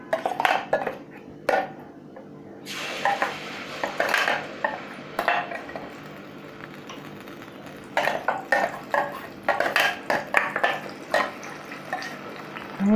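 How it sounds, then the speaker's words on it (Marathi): Ground masala being stirred and sautéed in a pan for egg curry, with bursts of close spoon-on-metal scraping and clinking in irregular rhythm over a faint sizzle, separated by short quieter pauses. "चांगला असं परतून घ्यायचं आहे"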